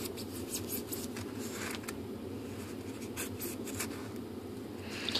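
A blade cuts a block of material for an Airbus A380 scale model build, a close, steady scraping and rasping that runs continuously with small bursts of sharper strokes throughout.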